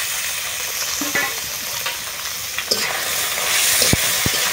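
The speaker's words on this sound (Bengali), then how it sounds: "এখন আমার পেঁয়াজগুলো এসে গেছে এখন আমি আস্তে আস্তে শিং মাছগুলো দিয়ে দিতে" Singi fish frying with onions in a pan, a steady, close sizzle with bursts of stirring and scraping that grow a little louder toward the end, with no voices.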